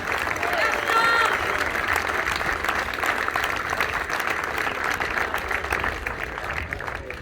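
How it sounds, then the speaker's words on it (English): Audience at a youth football academy presentation day giving a big round of applause for a player, steady dense clapping with a few cheers throughout, fairly loud and close. "Okay, big round of applause for Josh"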